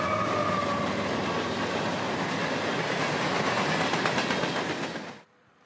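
Freight train 729 roars past on the S Line main line in Central Florida, a loud, steady rumble with clattering wheels close by, cutting off abruptly near the end.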